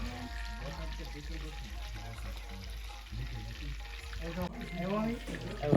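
Bhajiya fry in hot oil in a simple kitchen setup, a steady low sizzle running throughout with faint clatter and a louder burst of bubbling near the end.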